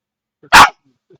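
A puppy lets out one loud, close bark, with faint soft sounds just before and after.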